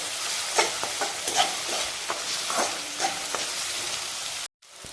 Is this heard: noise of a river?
no